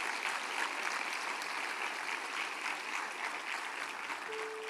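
A church congregation at Templo dos Anjos applauds during a sermon, a steady, dense wash of clapping sustained throughout with no speech over it and a faint tone near the end.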